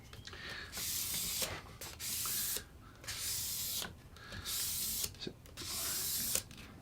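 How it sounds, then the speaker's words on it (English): Guitar fretboard edges being sanded with 800 grit sandpaper, a steady close scratchy rubbing in about five long strokes separated by brief pauses, with no talking. "800 grit sandpaper, by the way."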